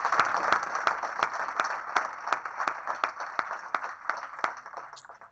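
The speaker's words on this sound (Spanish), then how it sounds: "este aplauso para ti" Steady applause from a group honoring interviewee Pedro Duque at the close of a student interview, with dense, rapid hand claps and sharp individual claps standing out, sustained at an even level before thinning slightly at the end.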